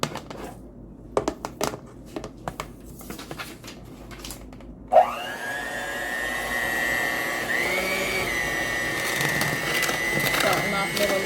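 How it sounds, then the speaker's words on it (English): An electric mixer starts up and runs steadily at low speed, beating 7 Up pound cake batter with sugar and buttered shortening; a loud whirring hum begins partway through after scattered clatter and continues close and prominent to the end. "We might have to plug up the mixer."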